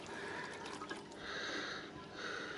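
Water dripping and trickling from a clogged garden water ornament outdoors, a continuous wet splashing texture with faint irregular drips, fairly quiet and without speech.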